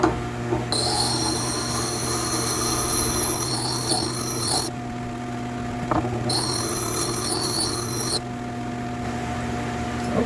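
Hatchet being sharpened on a Tormek grinder with a jig, a steady motor hum with grinding rasp and two long high-pitched squealing passes of steel against the stone, close and fairly loud.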